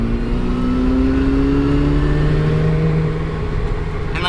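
A restored stock 1995 Mazda RX-7 FD with a 13B sequential twin-turbo rotary engine revs hard in a steady, loud, continuous drone with a rising whine and no pauses.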